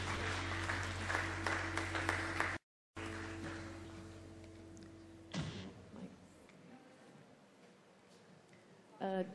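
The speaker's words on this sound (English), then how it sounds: "let's give them a round of applause" An audience at a press launch of the Maruti Ciaz sedan claps in a steady, moderate round of applause under a low hum, cut by a short gap, then a host speaks as the clapping fades.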